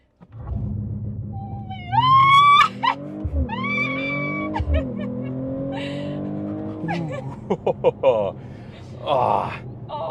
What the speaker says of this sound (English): Launch control, race start.